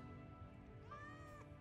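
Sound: cat meowing in the video game Final Fantasy VII Remake

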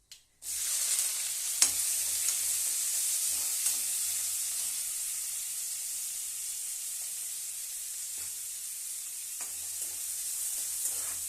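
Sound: onion and curry leaves frying in hot oil with mustard seeds

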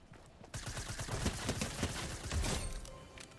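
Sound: combat shotgun firing in the video game Fortnite

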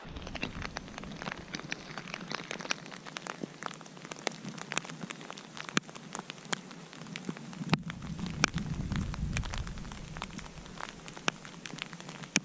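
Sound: rain falling in deep woods

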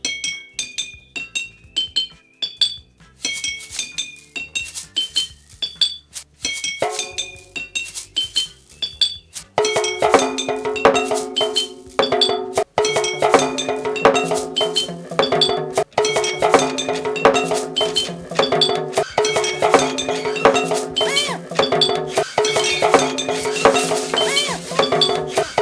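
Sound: homemade classroom percussion instruments played

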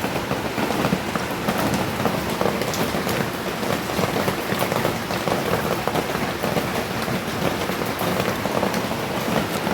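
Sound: continuous rain

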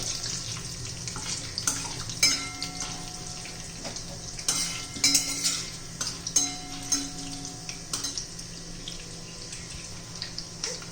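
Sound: chana dal and urad dal roasting in pan

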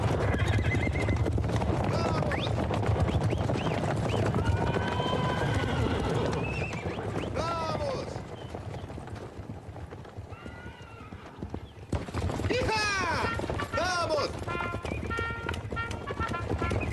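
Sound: horses galloping and neighing

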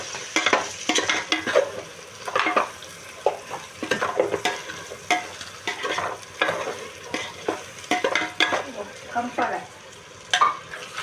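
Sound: stirring ground coriander and spices into mutton biryani masala

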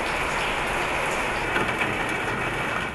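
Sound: rain falling on a shack art installation in a pool

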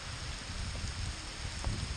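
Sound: hail and rain during a thunderstorm

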